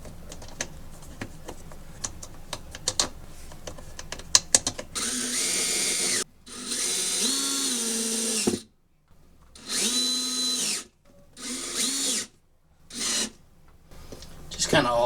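A power drill drives screws into a washing machine agitator during drum bearing repair on a Kenmore washer, giving several loud whirring bursts separated by short pauses, after quieter clicking and handling of parts.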